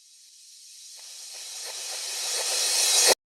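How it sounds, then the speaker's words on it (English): A reversed crash cymbal: a bright, hissy wash that swells steadily louder over about three seconds and then cuts off abruptly. "we'll add a reverse crash"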